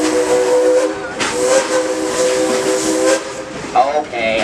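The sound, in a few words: steam train whistle tooting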